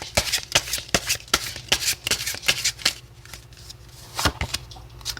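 A deck of oracle cards shuffled by hand, with repeated quick riffling bursts and soft papery slaps at close range, and no voices.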